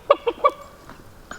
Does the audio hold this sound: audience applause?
no